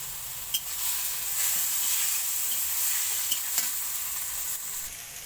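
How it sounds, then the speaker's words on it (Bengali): A hilsa fish head frying in a pan with taro leaves and onion, a steady close sizzle and hiss with a few faint clinks of stirring. "তারপর দিয়ে দেবে মাছের মাথাটা"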